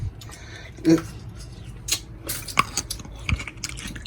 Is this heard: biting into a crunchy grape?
yes